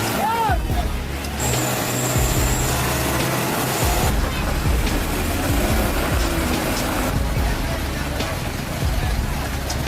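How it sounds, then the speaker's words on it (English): A heavy off-road truck strains through mud with a deep, labouring engine rumble and hissing air-brake bursts, while voices talk over it. "The giant truck struggled, straining to overcome the muddy road like a brave warrior conquering a challenge"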